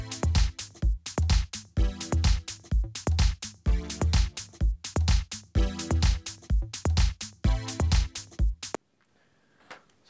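Synthesizer chords strike in a steady rhythmic pattern, one chord per bar, loud and up close, then stop abruptly into near silence.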